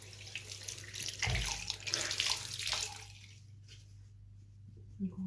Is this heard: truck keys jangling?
no